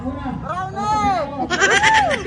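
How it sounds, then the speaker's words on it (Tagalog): A goat bleats in two wavering, drawn-out calls in quick succession, loud and close, with people's voices and shouting around it outdoors. "Kambing!"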